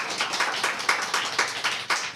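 An audience claps after a sung worship song at a church service, a short burst of rhythmic, even handclaps close by with no voices.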